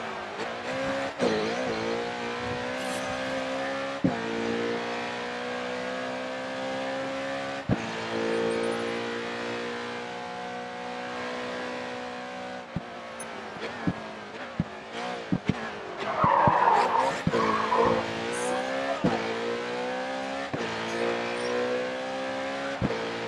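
A GC Auto GC10-V8 race car in the video game GRID 2, its V8 engine revving hard through rising gear changes, with brief tire squeals and skids midway.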